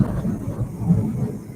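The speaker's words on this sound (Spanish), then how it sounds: "Ya está tronando fuerte acá." Thunder rolls as a loud, continuous low rumble during a storm, swelling briefly midway through and heard on its own.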